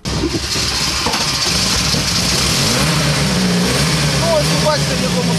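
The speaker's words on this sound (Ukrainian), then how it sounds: "Тобто бензину 20 грамів вона запустилася." A car engine runs steadily right after starting, a loud, close, continuous mid-pitched drone with slight revving variation and no pauses.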